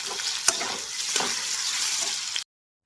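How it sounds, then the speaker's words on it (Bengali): Potato pieces fry in hot oil in a home kitchen, for homemade chow mein, while being stirred. A dense, close sizzle is broken by a couple of spatula scrapes, then stops abruptly near the end. "এখন আলুটাকে কয়েকবার নাড়ানাড়ি করে ভালো করে ভেজে নেব।"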